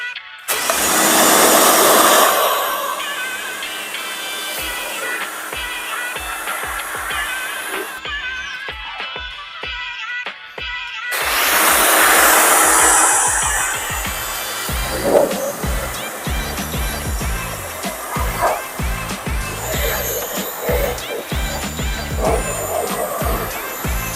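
Water spray rinses a ceramic-coated car, with two bursts of loud hissing spray separated by a short gap, then a continuing rattle of water and handling noise nearby.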